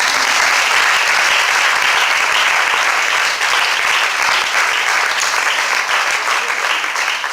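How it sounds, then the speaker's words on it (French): A church congregation applauds loudly and continuously, a thick even wash of clapping from many hands that holds steady throughout without a break. "Nous applaudissons pour Dieu."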